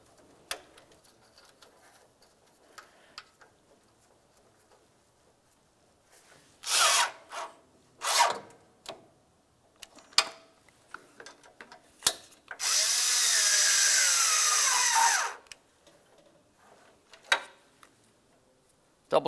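A power drill or impact driver snugs up the AC condenser mounting bolts on a Ford Flex, giving short whirring bursts followed by one longer sustained run, with quiet handling noises in between.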